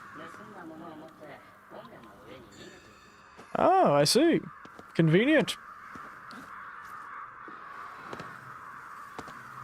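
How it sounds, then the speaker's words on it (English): Crows cawing in Ghostwire: Tokyo, two loud harsh caws close by amid quieter game ambience, with a person talking before and after them. "Damn thieving crows."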